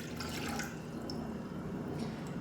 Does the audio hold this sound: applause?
no